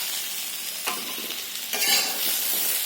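Spices fry in hot oil in a pan, giving a constant loud sizzle. Scraping stirring strokes come through clearly near the middle and toward the end.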